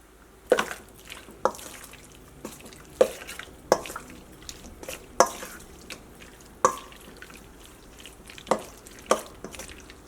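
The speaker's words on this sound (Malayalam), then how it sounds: "ഈ മുട്ട നമ്മൾ നമ്മുടെ ഈ ചിക്കൻ്റെ മിക്സിങ്ങിലേക്ക് ചേർക്കട്ടെ" Beaten egg being mixed into a chicken mixture, a series of wet squelching and tapping stirs spaced about a second apart, close and clear with no talk.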